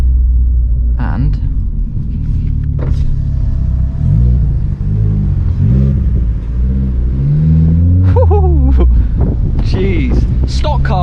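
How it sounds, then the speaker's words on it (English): A stock Vauxhall Corsa's engine rumbles up through acceleration with a few small exhaust pops and crackles, heard from inside the cabin under steady wind noise while a voice talks over it. "stock car, there's a little pop and crackle, I like that"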